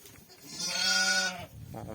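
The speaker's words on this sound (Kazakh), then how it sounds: "15-20 күндік қозы." A lamb around 15-20 days old gives one clear, close bleat lasting about a second, with faint background noise before and after.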